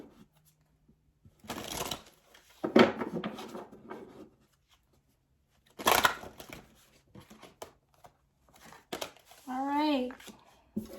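Several bursts of a tarot-style reading deck being shuffled, crisp riffling flurries separated by pauses, with a voice speaking softly between them.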